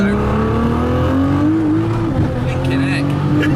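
Highly tuned Nissan GT-R engine at full throttle, its note climbing steadily in pitch as it pulls hard, loud and close from inside the car, with road and wind roar underneath.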